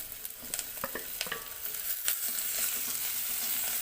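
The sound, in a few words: sautéing curry ingredients and chopped tomato in a pan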